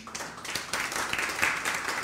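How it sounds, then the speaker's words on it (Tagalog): A church congregation claps for the Lord during worship, a steady patter of many hands that swells into fuller applause, close and lively, with no voices. "Palakpakan mo nga si Lord."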